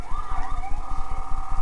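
A wailing ambulance siren in Grand Theft Auto IV rises and falls in pitch, loud and continuous, over a steady low rumble throughout.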